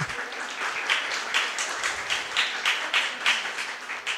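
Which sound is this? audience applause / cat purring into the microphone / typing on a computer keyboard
audience applause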